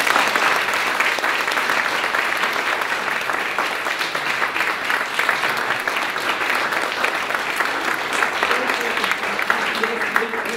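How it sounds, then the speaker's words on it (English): Audience applause at a talk at the Google Campus, a sustained, even round of clapping from a crowd lasting about ten seconds. "please, round of applause for these guys."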